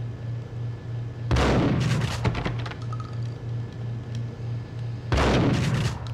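Two loud gunshot blasts in the Max Payne PS2 game, fired to shoot off a lock, each ringing out and decaying over a steady low in-game hum, spaced a few seconds apart.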